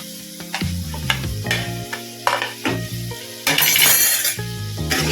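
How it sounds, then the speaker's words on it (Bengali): Fried potatoes sizzle steadily in a pan with spice masala while a spoon scrapes and stirs in short bursts, with a bright louder sizzle near the end over soft background music. "আলুটা দিয়ে খানিকক্ষণ কষিয়ে নেব।"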